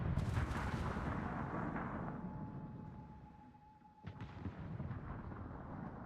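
Heavy battleship guns fire in a World of Warships naval battle, with the Massachusetts shooting back. Deep, booming blasts roll out at the start, then come a quieter stretch and a renewed rumble, with no talk.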